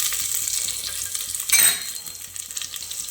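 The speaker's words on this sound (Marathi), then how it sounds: "मोहरी छान अशी फुलली की त्यामध्ये जिरे घालणार आहोत. यानंतर लसूण घालून घेऊया." Garlic frying in hot oil with mustard seeds and cumin, a continuous close sizzle with a short louder crackling burst midway.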